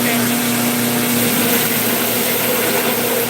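A grinder grinds the blade of a Japanese Santoku kitchen knife, a loud, steady, harsh whine that runs unbroken the whole time with a constant hum underneath.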